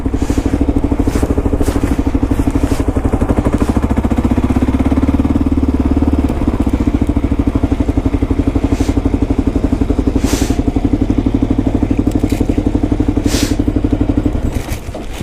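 A motorcycle engine idles steadily at a drive-through, then shifts tone as the rider eases out the clutch and pulls away, the close, continuous rumble dropping off slightly at the end.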